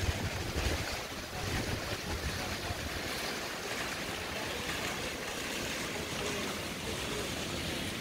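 Sea waves breaking steadily along a Black Sea beach, a continuous rushing surf with wind noise on the microphone and no talking.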